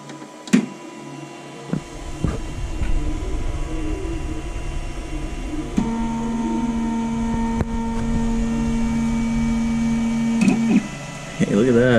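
A FlashForge Creator Pro 3D printer homes its axes with a steady motor whine and hum, some knocks and clicks, and a rising stepper tone near the end.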